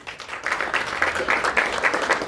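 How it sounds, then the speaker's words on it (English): Audience applause for a colleague at a panel discussion, a steady wash of many hands clapping at moderate level, fairly close, continuous for a couple of seconds with no talk over it. "Please give Steve a round of applause"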